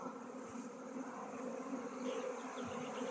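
A small honeybee swarm flies from one hive to a neighbouring hive, a dense continuous buzzing hum of many bees, steady and fairly close throughout with no talking.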